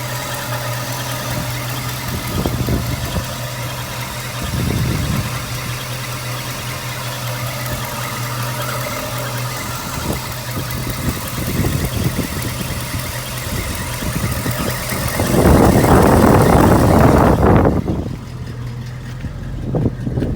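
A 1966 Ford Mustang engine idles steadily with a low droning hum, close by, with a few heavier revs or bursts and a louder stretch near the end before easing back.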